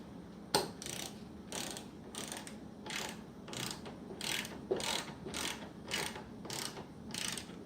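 A hand ratchet with a 12 mm socket clicks steadily as it tightens a corroded battery terminal nut on a Jeep Cherokee, about a dozen even rasping strokes in a regular rhythm, close and clear, with no talking.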